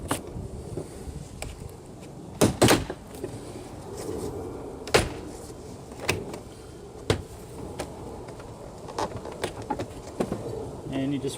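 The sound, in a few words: prying off 2007 Cadillac CTS rear door panel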